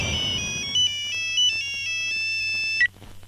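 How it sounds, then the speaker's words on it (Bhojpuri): A telephone ringtone plays a bright electronic melody of short repeating tones, loud and clear, then cuts off near the end. "मंत्री जी का फोन था"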